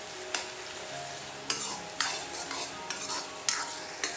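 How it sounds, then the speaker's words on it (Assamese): Ginger and garlic paste fries in a pan with a soft continuous sizzle, while a spoon scrapes and clinks against the metal at irregular moments, close and fairly quiet. "এখিনি এটা আকৌ অকণমান ভাজি লওঁ"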